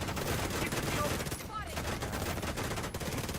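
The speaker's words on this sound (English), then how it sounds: "Go ahead. Shoot at my shield again" Rapid bursts of gunfire strike a shield in The Division 2, a steady crackling barrage of shots running continuously at moderate level with dense rattling impacts.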